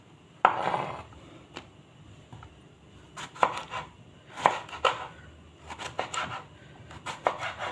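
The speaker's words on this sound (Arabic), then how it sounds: "هنقطع البتنجان" Eggplant is chopped on a cutting board with a knife, sharp close thuds landing at an uneven rhythm, some single and some in quick clusters, with no talking.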